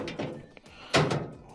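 An LG dryer front panel being slid onto the frame hooks, giving a few soft scraping shuffles and then a dull, muffled thunk as it seats, close and quiet.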